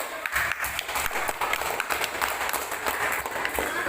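Schoolchildren in a classroom clap together for a student group, a brisk, close patter of many hands that stays dense and even from start to finish.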